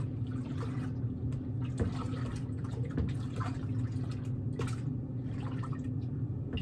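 Liquid homebrew beer extract mixture pours steadily into a fermenter, a continuous splashing trickle with a low hollow rumble, close by and without talk.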